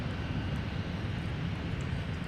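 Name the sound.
Airbus A330 airliner arriving from Paris, landing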